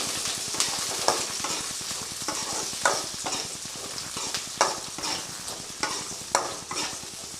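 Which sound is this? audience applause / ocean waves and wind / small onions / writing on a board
small onions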